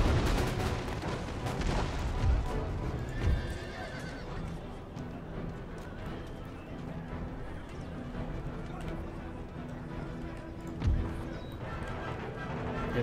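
Artillery cannons fire during a siege battle in the video game Empire Total War, with a few scattered booms around a constant din of horses neighing and battle noise.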